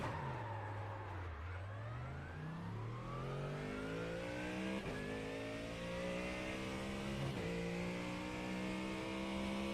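A race car from a racing video game laps the Nordschleife, its engine revving up through the gears with steady rising whine and brief shift dips, loud and continuous with no talk.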